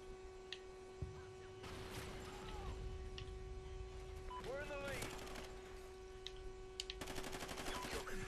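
Gunfire in the video game Call of Duty: Ghosts, a short burst of sharp shots near the end standing out over a steady hum and game ambience, with faint earlier pops and a few whooshing effects.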